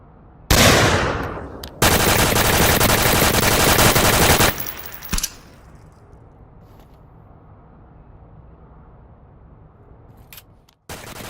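Rapid automatic gunfire in the Onward VR shooter game, a loud sustained burst after a single opening shot, then quieter ambient noise with a few faint clicks.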